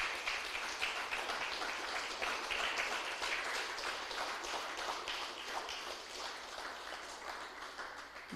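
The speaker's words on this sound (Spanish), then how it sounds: "Denle un aplauso fuerte al Señor, aleluya." A church congregation applauds the Lord during a sermon, giving a long, even stretch of many hands clapping together, rather quiet and distant, with no voices over it.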